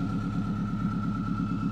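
Subaru WRX engine swapped into a Porsche Spyder with a straight-pipe turbo exhaust, idling with a loud, rhythmic, lumpy burble and a steady whine riding above it, close by with no talk.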